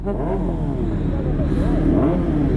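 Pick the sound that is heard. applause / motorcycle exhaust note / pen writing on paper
motorcycle exhaust note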